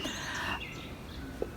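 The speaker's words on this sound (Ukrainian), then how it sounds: "І ми зараз якраз дійсно чули, як пташечки співають." Birds chirp and sing softly in Vyšehrad cemetery in Prague, a steady layer of high, distant calls over quiet outdoor ambience, with one brief brighter chirp near the end.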